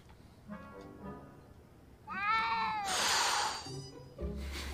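A cat meows in the Back to the Future video game, one clear drawn-out cry up close, followed by a burst of noisy hiss, with game sounds around it.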